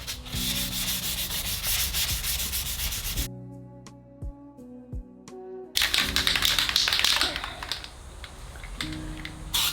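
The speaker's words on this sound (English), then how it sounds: "after quite a bit of sanding with my 800 grit, I've got this to right where I want it" A plastic car bumper hand-sanded with 800 grit sandpaper, producing loud rhythmic scratchy rubbing strokes up close, broken by a quieter stretch of light taps before the sanding resumes.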